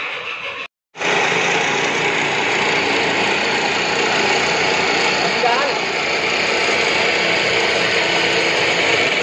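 A new drill bit runs through a chariot fitting job, a loud continuous mechanical whine and grinding that cuts out briefly near the start and then drones on steadily, with speech faint beneath it.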